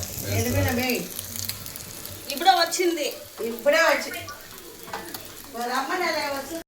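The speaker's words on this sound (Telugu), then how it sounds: "చేపలు బాగా వేగాల నూనెలో బాగా ఫ్రై వేగాలన్నమాట." Fish frying in oil in a home kitchen while being stirred, a crackling sizzle with scraping stirs that come in bursts, heard under steady talk.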